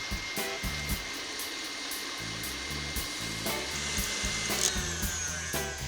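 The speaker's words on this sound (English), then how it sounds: "And then beat these together on high speed until it's more than doubled in volume." An electric mixer beats eggs and sugar on high speed, a steady close whirring hum with rhythmic clicking pulses as the beaters strike the bowl.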